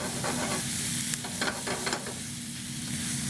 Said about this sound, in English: using the meat juices to cook up the onions